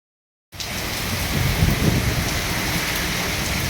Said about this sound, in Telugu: హుజురాబాద్‌లో భారీ వర్షం.